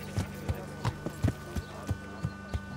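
Horse hooves clopping in the medieval role-playing game Kingdom Come: Deliverance, a slow, even walking rhythm of distinct soft thuds, about eight steps, with a quiet hum beneath and no voices.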